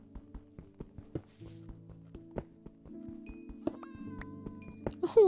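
Cat meows in Minecraft Bedrock Edition near a village: several short plaintive mews over a steady stream of blocky footstep clicks and other game sounds, with a sharper noise at the end.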